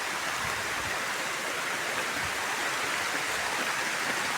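Steady rain falls at an outdoor spot with pigs, making a dense, even hiss that lasts the whole stretch. No voices come through over it.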